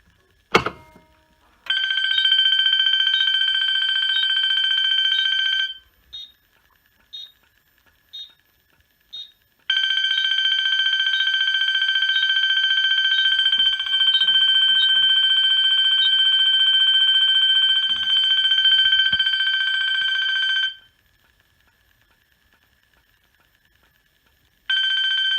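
A fire alarm bell clangs continuously in long, loud bursts, cutting out briefly between stretches with a few short pulses, then falling silent before starting again.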